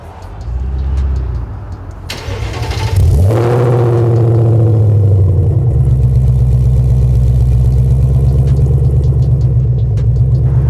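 A Ford Mustang Dark Horse with an aftermarket AWE 3-inch active exhaust cranks and fires up with a loud burst, then settles into a deep, steady, rumbling idle from a throaty exhaust, close by.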